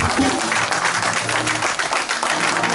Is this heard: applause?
yes